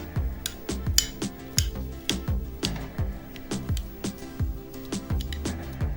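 A spoon clinks rhythmically against a bowl while stirring yogurt with flaxseed, the sharp metallic taps coming quick and steady, close up, with no talk.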